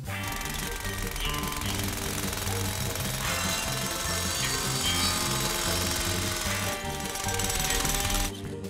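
Drilling through rock in a cartoon: a rapid, hammering machine clatter pounds steadily and loudly throughout, with a tonal musical layer above it.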